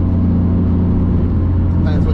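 BMW E34 with a 500 hp turbocharged M50 engine cruising on the road, giving a steady, droning engine and exhaust note that holds constant, close and loud, for the whole moment.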